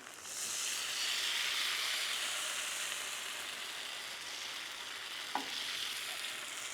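Vegan, gluten-free bánh xèo batter sizzles steadily in a frying pan, a close, even hiss that swells just after the pour and continues, with a brief scrape of a utensil near the end.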